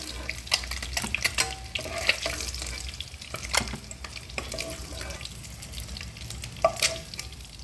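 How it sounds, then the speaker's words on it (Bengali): Eggs frying lightly in oil in a home kitchen pan, a steady soft sizzle with scattered crackles and occasional utensil clinks, close and moderately loud, no talking. "আমি ডিম একটু অল্প ভাজি, কারণ ডিম বেশি ভাজলে একটু শক্ত শক্ত হয়ে যায়"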